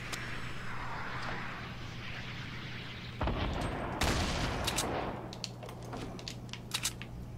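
Gunfire in the Fortnite battle royale video game: a steady crackle of rapid shots with a few sharper, louder bursts near the middle and brief snaps toward the end, heard without any talk.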